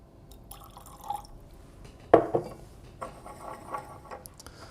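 Water drips into a glass of Royal Lochnagar whisky: a few soft, close drops, the clearest a sharp plink about halfway through, followed by faint patters in a quiet room.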